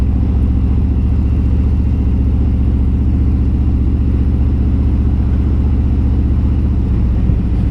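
A motorbike engine rumbles loudly and continuously while riding on the road between Taihape and Napier, a steady deep drone with a pulsing low throb and constant wind-like whir.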